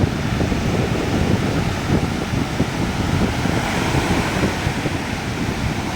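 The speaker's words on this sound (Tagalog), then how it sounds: "Lalo na bandaron guys, ang lalaki ng alon." Big ocean waves roar continuously at a surfing spot in Sitio Boloc, Mambajao, Camiguin, a loud unbroken wash of surf mixed with heavy wind buffeting the microphone.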